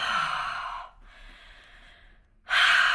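Loud breathing out through the mouth in a calm, quiet room, with two strong exhalations at the start and end framing a softer, sustained breath in the middle, no talking.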